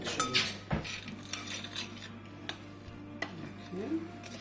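Scone mixture with sultanas being stirred in a bowl, giving soft scraping and clinking of a utensil against the bowl, with a few sharper knocks over a low steady hum.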